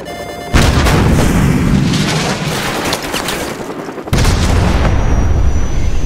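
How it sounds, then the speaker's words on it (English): A Stinger missile fired in Call of Duty Modern Warfare Remastered, a sudden loud boom and rushing roar that sustains, then a second heavy blast, dense and close. "So, grab another Stinger and fire again."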